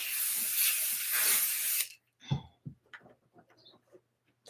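A spray bottle that is running out gives a long, loud, close hiss lasting nearly two seconds. Quieter clicks and small handling noises follow.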